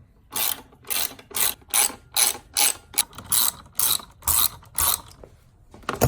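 Bolts on a Honda Civic Type R FK intake being loosened with a ratchet, about a dozen bursts of rapid clicking ratchet strokes in steady rhythm, close and fairly loud, with no talking.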